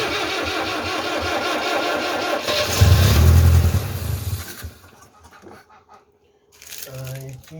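A 1974 Citroën DS21 that has not run for over six years cranks hard, catches with a loud rough surge, then dies away. After a short quiet gap it cranks again.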